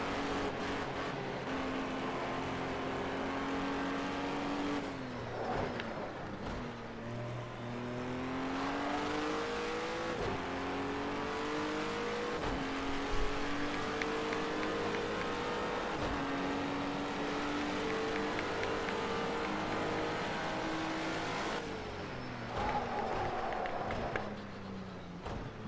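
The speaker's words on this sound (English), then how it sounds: "Here's the exhaust going nuts back there." Racing car in a video game with its exhaust roaring, engine pitch climbing and dropping through repeated gear shifts, loud and continuous with brief lifts off the throttle.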